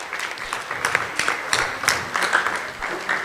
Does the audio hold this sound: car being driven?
no